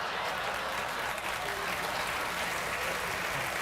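Steady studio audience applause, dense and sustained at an even loudness throughout, with no pauses.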